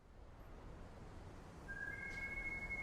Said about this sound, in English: Oh, we got that iconic whistle.